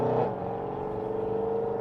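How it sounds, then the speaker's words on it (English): A loud car in Shanghai roars steadily past with a sustained engine drone, close and strong throughout, with no talk. "That's a very loud car, by the way."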